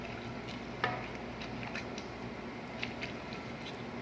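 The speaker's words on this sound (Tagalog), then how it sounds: "halo-haloin lang natin para hindi dumikit sa ilalim" Pancit bihon noodles stirred in a frying pan, with a faint steady sizzle and occasional light clicks of the utensil against the pan, quiet and close.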